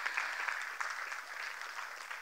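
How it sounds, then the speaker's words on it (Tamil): Applause at a Salangai Pooja Bharatanatyam debut ceremony, a steady patter of many hands clapping from an audience, moderate and continuous for a couple of seconds with no voices. "பெரிய கைத்தட்டு கொடுத்துருங்க"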